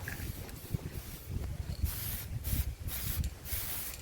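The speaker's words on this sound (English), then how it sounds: "I gave it a quick going over with some spray paint" Short hissing bursts of an aerosol spray, several quick pulses in a row at close range, fairly quiet.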